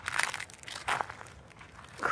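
Dry leaves crunching underfoot, a few loud, close crackling crunches at uneven intervals with brief pauses between steps, no talking.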